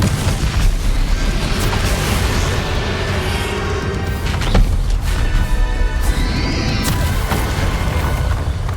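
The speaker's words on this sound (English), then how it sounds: "Confringo." A Confringo fire spell explosion in the Hogwarts Legacy video game, with loud dense booming blasts and crackling over a continuous roaring battle backdrop of sound effects and music, close and sustained.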